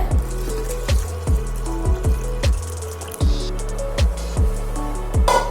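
Meat cooking water pours steadily into a pot for lamb head curry, a continuous splashing gush with repeated bubbling glugs, close and fairly loud, no voices.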